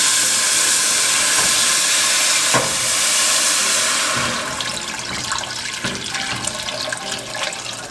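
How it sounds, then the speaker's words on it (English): Water gushes in a steady, hissing stream into a soup pot for chicken noodle soup, then softens to a lighter pour with small splashes and clinks near the end. "I'm going to go ahead and add in my water."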